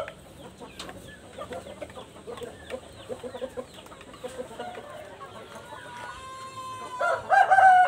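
Several Indio Gigante chickens cluck and chatter nearby, building to a loud rooster crow near the end, with no talking.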